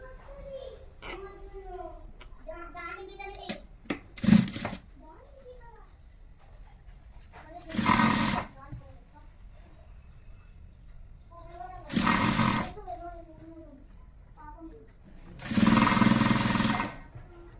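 Sewing machine stitching blouse fabric with fine piping, heard in four loud whirring bursts of a second or so each, separated by stretches of talking.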